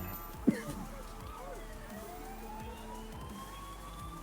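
Police sirens in a tabletop game session sound faintly, with a thin rising and falling wail in the background and a brief thump near the start.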